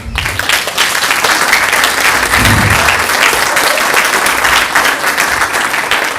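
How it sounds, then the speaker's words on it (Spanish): A congregation at a Sunday prayer group meeting breaks into loud, continuous applause, with dense clapping filling the room without pause and faint cheers mixed in. "Un aplauso al Señor."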